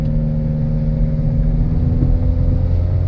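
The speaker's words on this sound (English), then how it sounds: "The exhaust is a little bit louder than maybe it should be out of the factory." A 2010 Nissan Altima's engine and slightly loud exhaust run at a steady idle, with a constant low hum and drone and no talking.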